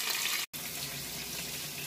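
Chosen Foods marinade sauce poured over salmon in a hot pan, a steady wet hiss and sizzle running continuously for a couple of seconds with a brief break, no talking.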